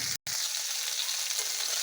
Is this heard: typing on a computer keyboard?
no